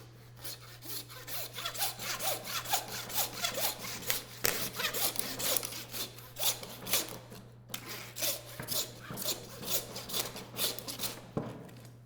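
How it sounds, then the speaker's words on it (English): Handsaw cutting across bison front quarter ribs, a close, fairly quiet run of rhythmic rasping back-and-forth strokes with a brief pause midway, no talking. "this is where I'm going to grab my handsaw. I'm going to make a cut across these ribs right here."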